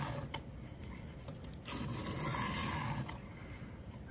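A soft knife steel dragged against the stone of a Xarilk portable clamped sharpener, giving a steady close gritty rasping that swells midway and runs on with a few sharp ticks.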